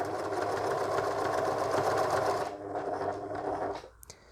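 A sewing machine runs a straight line of stitches in cotton fabric, a loud, even mechanical whir for about two and a half seconds, then slows and winds down, ending with small clicks.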